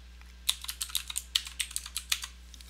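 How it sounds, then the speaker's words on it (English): Keystrokes on a computer keyboard as a password is typed during a server install, a quick irregular run of about a dozen light clicks, close and clear, with a faint steady hum underneath. "Root password, so here just type a password in."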